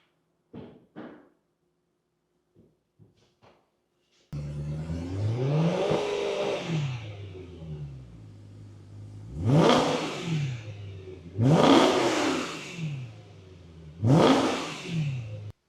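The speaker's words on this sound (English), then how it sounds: "start the car, give you guys a couple quick revs so you can hear what it sounds like stock" A BMW E9X M3 engine in stock form cranks and fires up into a steady rumbling idle, then three sharp revs climb and fall back, loud and close, after a few quiet clicks.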